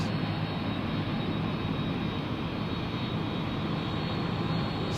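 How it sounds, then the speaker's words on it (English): Distant Boeing 777 jet at Memphis airport, a broad steady engine roar holding an even level throughout with no break. "we get another 777 from DFW headed our way"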